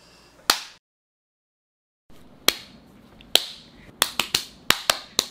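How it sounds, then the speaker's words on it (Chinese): Sharp, hard hand claps ring out alone: one, then a long silence, then two spaced claps. A quick volley of about six more follows near the end. "很激烈的一个拍手"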